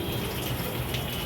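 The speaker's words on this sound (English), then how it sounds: "I just pour water first" Water from a tap is poured steadily onto a green scrub pad held in the hand before dishwashing, a soft, continuous gushing splash heard close and fairly quiet without any speech.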